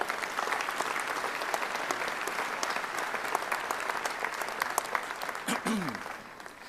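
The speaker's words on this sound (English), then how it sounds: "Let's bring him to the rostrum with a round of applause." Sustained audience applause for a clergyman being welcomed to the rostrum at a church gathering, dense steady clapping throughout with a few brief voice-like sounds near the end.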